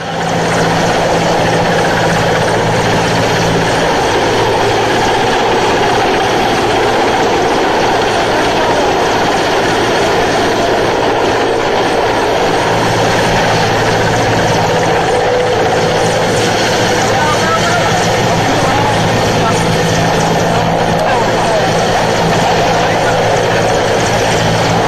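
A helicopter hovers during a flood rescue in Bhilwara, Rajasthan, its loud, continuous rotor and engine roar filling the scene while a voice talks over it.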